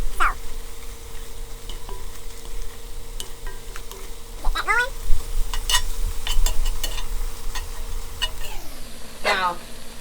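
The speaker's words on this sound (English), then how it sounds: "I'm cooking this meat till all the pink is out of it." Ground meat and turkey sizzle in a pan for homemade spaghetti sauce, with steady frying crackle and repeated scraping strokes of a utensil stirring, close and clear throughout.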